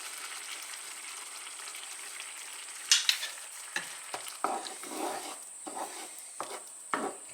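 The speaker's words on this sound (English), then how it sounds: "Stir that through, mix it well." Chicken sausages in thickened cream being stirred in a frying pan, a constant gentle sizzle under intermittent scraping and knocking strokes of a utensil against the pan.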